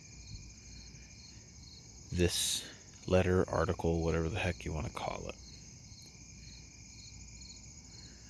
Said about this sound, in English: So I'll go over and disturb some other crickets. Maybe they'll keep chirping as I walk through.